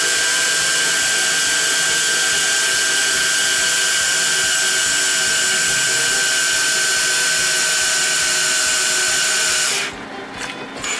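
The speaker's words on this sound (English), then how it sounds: "So let's just drill a hole right there." A small hand drill bores a hole through a circuit board in an Apple II clone, a steady high-pitched whirring grind running continuously for about ten seconds before stopping, leaving faint handling noise.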